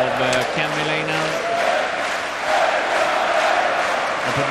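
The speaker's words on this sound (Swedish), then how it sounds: "publiken här inne gör shit för att elda på sina hemmaspelare som är i underläge 0-1" Home crowd in an ice hockey arena during a Rögle–Färjestad playoff semifinal, a loud sustained roar of cheering and shouting with whistles and horn-like tones early on, filling the whole space continuously.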